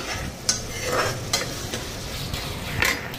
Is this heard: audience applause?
no